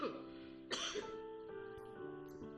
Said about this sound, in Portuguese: vou estar sempre dando uma tossidinha aqui